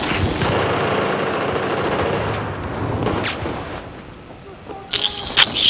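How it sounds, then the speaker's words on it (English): Rapid bursts of gunfire in an online shooter match on the Operation Metro map, loud at first and then fading into scattered shots, with several players talking over it. "Damn, the shotgun. I heard that thing."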